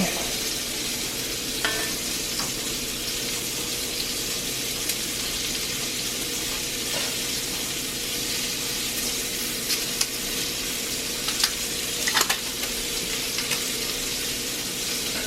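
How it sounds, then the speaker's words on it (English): A roux for gravy stirred in a hot cast iron pan: a continuous, even sizzle and frying hiss with occasional scraping clicks of the utensil against the iron, steady and close, with no talking. "Making up the roux for the gravy"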